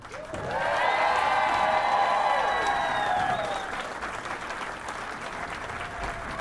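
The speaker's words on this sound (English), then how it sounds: "how about one more round of applause for our 2 finalists?" Arena crowd at the 2013 Class C girls state basketball finals gives a loud, sustained round of applause with cheering for the two finalist teams, fading after a few seconds into softer crowd noise.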